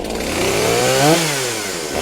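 A chainsaw set to second choke runs close and loud, its engine buzzing and revving up and then easing back over a couple of seconds.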